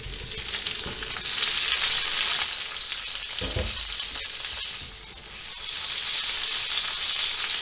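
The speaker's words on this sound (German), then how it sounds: "Dann kommen die gekochten Kartoffeln in die Pfanne." Boiled potatoes fry in hot oil and melted margarine in a pan, giving a loud, steady, broadband sizzle that lasts the whole stretch, with a brief low thump partway through as the potatoes are moved.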